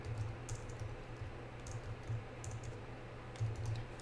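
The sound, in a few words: typing on computer keyboard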